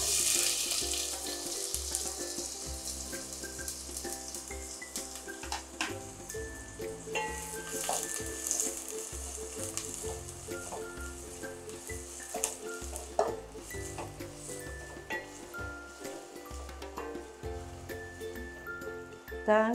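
Chopped onions sizzle steadily in a few spoons of hot oil while cooking for Goan beef rolls, a close, continuous crackle broken by occasional clinks and scrapes of a spoon stirring the pan.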